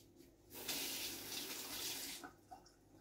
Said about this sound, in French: je vais me rincer les doigts quand même